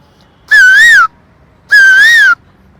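Two clear, loud whistled notes, each rising and wavering for about half a second, imitating a koel's call with a short pause between them.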